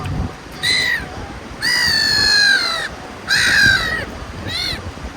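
Crows call in a forest with harsh, drawn-out caws, four separate calls in uneven rhythm, loud and fairly close, over a faint rustling background.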